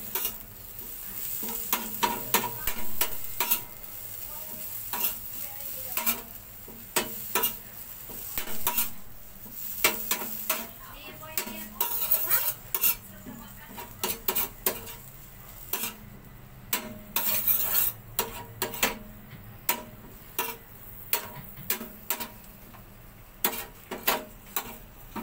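Fern shoots with belacan stir-fried in a pan, with repeated scraping, stirring clatter of utensil against metal over a steady sizzle throughout, close and busy, no talking.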